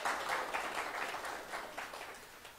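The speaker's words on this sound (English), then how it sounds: "Everybody give Sarah Dell a round of applause." An audience in a gathering hall applauds a woman returning to her seat: a short burst of many hands clapping together, strongest at the start and gradually thinning out.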